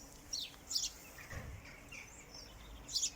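A small songbird singing outdoors on a quiet afternoon walk near a village, several short, high chirps and trills at moderate distance over faint background hush.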